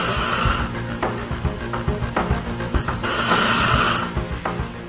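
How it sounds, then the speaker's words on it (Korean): A sleeping man snores loudly and steadily, with harsh rasping inhalations repeating in a slow rhythm and fluttering throat sounds in between, up close and alone. "엄청난 코 고는 소리가 끊임없이 울려 퍼지더니"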